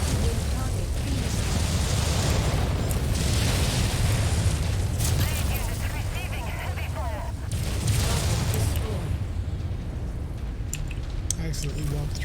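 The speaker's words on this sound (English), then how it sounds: "I accidentally walked through a nuclear explosion." A nuclear explosion in the MechWarrior 5 video game roars as a dense, sustained rumble with crackling bursts and booming surges throughout, loud and continuous, heard alongside in-game combat noise.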